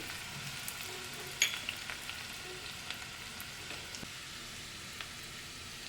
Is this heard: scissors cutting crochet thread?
no